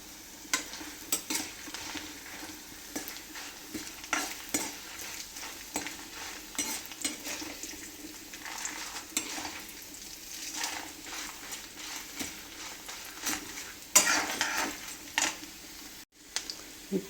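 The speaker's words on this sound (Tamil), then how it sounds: "நம்ம வச்சுருக்க உளுத்தம்பருப்பு, காஞ்ச மிளகா, பூண்டு, இஞ்சி எல்லாத்தையும் ஒன்றா ஆட் பண்ணிவிட்டு நல்லா வதக்கி விட்டுக்கோங்க." Urad dal, dried red chilies, garlic and ginger sauté in a pan with a soft, continuous sizzle, while a spatula stirs them in repeated scraping strokes and occasional light taps.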